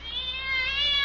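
A house cat meows in one drawn-out, rising and falling cry, close and fairly clear, with no talking over it.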